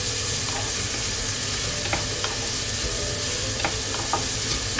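Onions sauté in a pan for spinach with coconut milk, a close, continuous sizzle with occasional light clicks of stirring and no talk.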